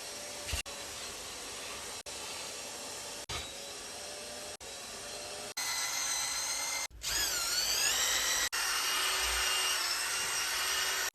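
A power drill whirs steadily with a scrubbing attachment, cleaning a Hyundai Sonata's trunk, its motor pitch shifting and briefly cutting out as it runs in several long bursts.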